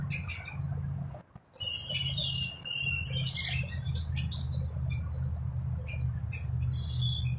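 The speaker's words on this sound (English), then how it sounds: "The birds sound beautiful." Birds chirp and tweet in bright repeated bursts over a steady low rumble, fairly close and continuing throughout without any voices.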